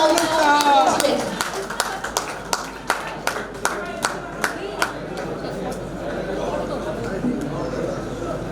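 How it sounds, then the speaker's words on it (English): Audience applause at a felicitation ceremony of a bank officers' association circle meeting, sparse individual claps at first settling into a steady murmur of scattered clapping and chatter, with voices talking over it. "give them a huge round of applause so that they can also be motivated"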